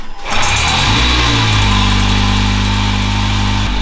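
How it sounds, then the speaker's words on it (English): A Honda CR-Z engine starts and settles into a steady idle with the clutch pedal held down, a close, continuous low hum with no talking. "Start it up, keep the clutch pedal pushed in."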